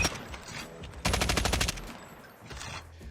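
Video game gunfire during slide-shot aim practice, with a short rapid burst of automatic shots lasting under a second and a fainter burst trailing after it.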